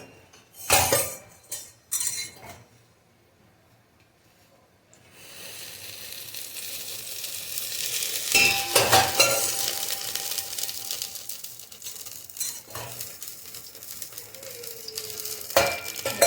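Oil goes into a hot pan for a sambhar tempering and breaks into a steady sizzle. It follows a few sharp clinks of utensils and a quiet pause, and the frying keeps hissing with the odd scrape or clink.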